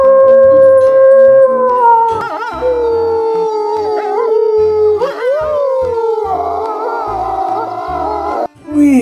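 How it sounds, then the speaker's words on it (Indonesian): A wolf howls loudly and close, in long wavering tones that rise and fall across several drawn-out calls with brief breaks between them, with no talking. "Wow, wadidaw, ada serigala."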